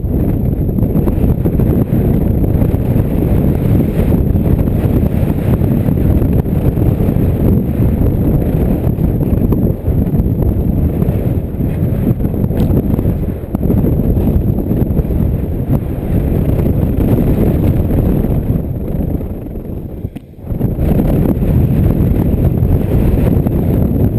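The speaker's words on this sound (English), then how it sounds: "A little bit of vibration from the wind." Heavy, loud wind buffets a microphone atop a fire tower reached by ATV trail ride, a continuous roaring rush that barely lets up, with one short dip near the end and no talk.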